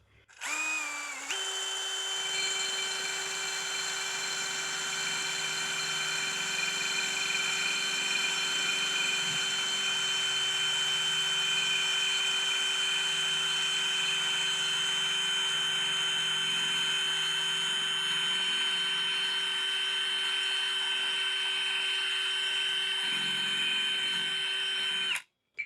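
A power drill boring through a ceramic pot whines steadily at high pitch for a long stretch, a sustained tonal buzz after a brief spin-up, ending abruptly.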